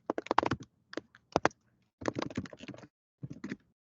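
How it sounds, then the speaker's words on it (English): Typing on a computer keyboard while entering an email address to sign up as a buyer, heard as close, crisp key clicks in three bursts of rapid taps separated by short pauses. "I'm going to type in my email"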